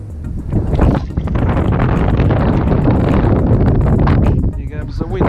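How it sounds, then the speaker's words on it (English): Strong wind gusting across the microphone on a fishing outing, a loud continuous roar and buffeting with rattling flaps, no one talking. "Here goes the wind again."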